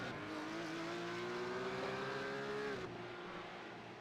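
A V8 Supercar engine in a racing video game drones at high revs in a steady, loud tone, then cuts off sharply on a downshift into second gear, with no voices.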